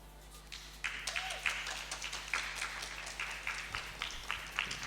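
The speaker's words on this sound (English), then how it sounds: "That got the loudest clap from the elections committee desk" At a student-union hustings, people at the elections committee desk clap in a brisk, fairly regular rhythm of sharp, close handclaps. A low hum sits underneath, and the clapping builds after a quieter opening.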